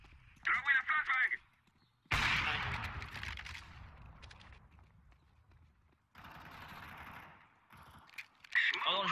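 Gunfire in CS:GO: a short burst of rapid shots, then a loud sustained blast with a rumbling tail, and later another stretch of gunfire noise, mixed with a voice talking.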